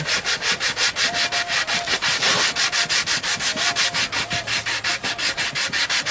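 Rhythmic back-and-forth rasping of 150 grit sandpaper backed by a sponge on a cracked wooden bowl under restoration, loud and close, with regular even strokes throughout.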